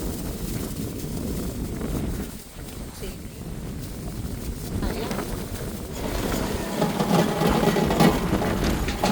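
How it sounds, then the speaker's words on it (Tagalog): Strong typhoon wind roars and buffets the microphone steadily, growing rougher toward the end, with a faint voice mixed beneath the gusts. "Malakas po yung hangin"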